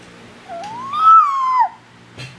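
A young child imitates a cat with a single drawn-out meow that rises, holds and then falls, heard up close and clearly against a quiet room.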